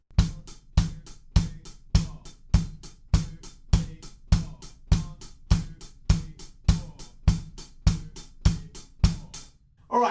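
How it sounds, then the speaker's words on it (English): Drum pattern built on crisp rim clicks, a steady, evenly spaced run of sharp near strikes over about ten seconds, each with a short decay, with no voice. "I think it's probably just hitting on the rim of the drum."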